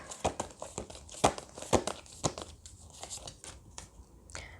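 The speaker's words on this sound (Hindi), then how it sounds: "मैं सारे कार्ड्स निकालूंगी" Tarot cards being drawn and handled, with crisp rustling, crinkling and snapping card noises in irregular bursts, close and fairly quiet, no talking.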